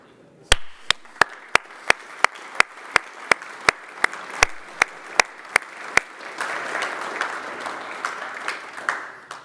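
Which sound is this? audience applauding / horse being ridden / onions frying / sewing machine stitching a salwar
audience applauding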